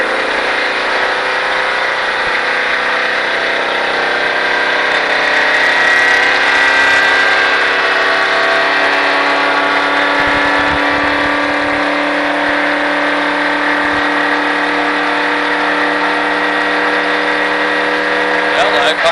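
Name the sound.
stock car engine accelerating on race track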